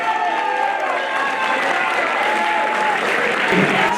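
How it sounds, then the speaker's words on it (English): Crowd applause and some cheering fill the hall at a boxing event after a fight, steady dense clapping lasting several seconds with a faint tonal note running under it. "give a warm round of applause for Matthew Tyndall"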